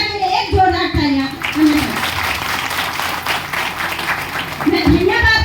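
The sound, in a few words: audience applause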